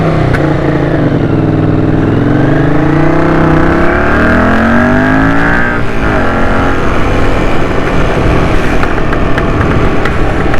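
A 1981 Honda CX500 motorcycle engine runs steadily while riding, its pitch climbing through the revs, dropping at a gear change and building again, loud and close with no talking.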